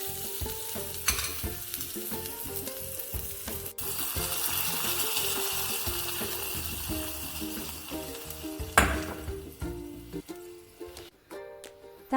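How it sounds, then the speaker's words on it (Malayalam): Mustard seeds splutter and crackle in hot coconut oil in a small pan for a Kerala crab curry tempering, with a loud continuous sizzle broken by sharp pops and stirring. "ഒരു ചെറിയ ചീനച്ചട്ടിയിൽ വെളിച്ചെണ്ണ ഒഴിച്ച് കടുക് പൊട്ടിക്കുക."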